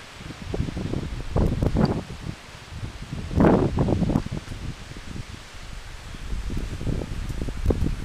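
Strong gusty wind in a windstorm in Aberdeen roars through big trees, broadband rushing swelling and easing continuously with a louder gust burst midway, no voices.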